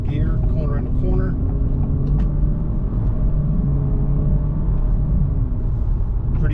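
A 2024 Acura Integra A-Spec with manual paddle shifting, held in second gear between corners, gives off a steady, close low engine and road rumble that stays even from start to finish. No voices break in.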